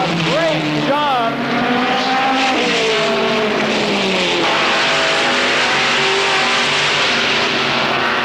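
Race cars roar around a track during a 1991 racing season spin-out in turn one, engines droning and shifting pitch loudly as a commentator talks over them.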